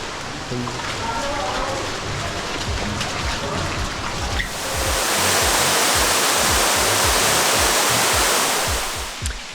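A powerful waterfall inside a cave in Bali roars continuously, a dense wash of rushing water that swells louder halfway through, with faint voices buried beneath.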